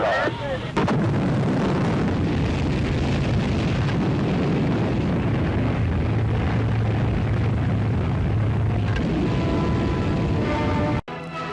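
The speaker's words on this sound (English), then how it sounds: "Ignition and liftoff." A Mercury rocket ignites and lifts off in a sustained, loud, rumbling roar that swells suddenly and holds steady for about ten seconds before cutting off.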